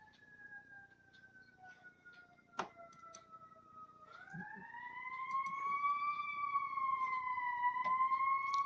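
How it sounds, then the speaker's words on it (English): Emergency vehicle sirens wail in the distance, a steady falling tone that swells louder and starts to waver midway, with faint clicks and room noise underneath. "oh, those sirens are annoying."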